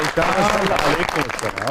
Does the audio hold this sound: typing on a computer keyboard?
no